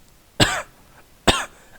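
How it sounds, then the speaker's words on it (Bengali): Two harsh coughs about a second apart, each a sharp burst tailing off quickly, with near silence between them, used as a horror story sound effect. "হঠাৎ উপরে দোতলায় কাশির আওয়াজ পাওয়া গেল।"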